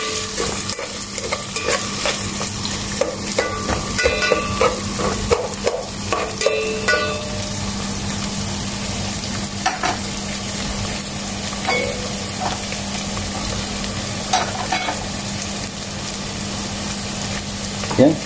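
Onions and chili sautéing in a pan for pork hamonado, a continuous close sizzle broken by clacking stirs of a spatula, with no talking.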